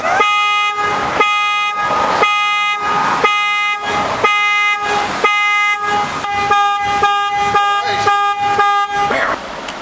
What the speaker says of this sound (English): The car alarm works.